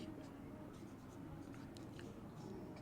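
Pen writing by hand on paper during an English grammar lesson, a faint scratchy stroke texture with soft taps, close and quiet, and no talking over it.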